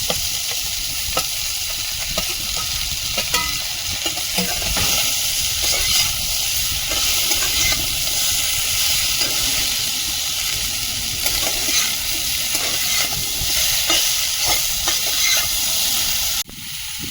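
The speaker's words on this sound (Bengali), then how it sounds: "এবার লাউটা দিয়ে দেবো" Bottle gourd stir-fried in a hot pan, a loud continuous sizzle and hiss with steady stirring scrapes close up, running throughout with no talk and cutting off sharply near the end.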